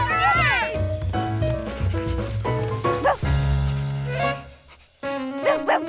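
A cartoon dog barking and yipping in bright bursts over a musical score, with animated voices and effects mixed in.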